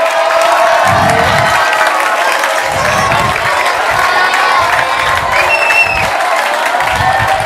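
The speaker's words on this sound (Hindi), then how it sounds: "तालियों से सर का स्वागत कीजिए।" Seminar audience at an Algebra career-guidance event breaks into loud, sustained applause with cheering and whoops filling the hall throughout.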